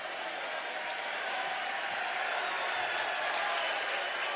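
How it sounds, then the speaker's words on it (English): Crowd at a men's college ice hockey game between RPI and Quinnipiac lets out a sarcastic mock cheer over an offside call, a broad, rising wash of voices filling the arena. "A mock cheer for the offside"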